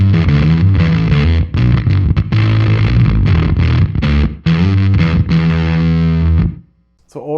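An electric guitar plays through the Haunted Labs/Dirty Haggard Hell Horse fuzz delay pedal with the fuzz engaged, loud, thick and distorted with sustained chords and notes, then cutting to near silence at the end.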